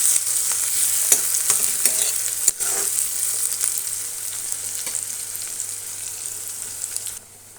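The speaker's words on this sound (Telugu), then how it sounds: "దీనిలో కొంచెం ఆవాలు కలుపుకున్నాం" Mustard seeds sizzle in hot oil with a bright, dense hiss and scattered popping crackles, plus a louder knock near the start, before the frying sound cuts off abruptly at the end.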